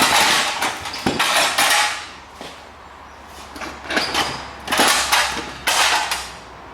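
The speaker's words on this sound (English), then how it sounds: "this gearbox now should basically pull apart" A SEAT Ibiza gearbox is worked apart by hand, with repeated close metallic knocks, scrapes and clunks coming in uneven bursts between short pauses, with no voices.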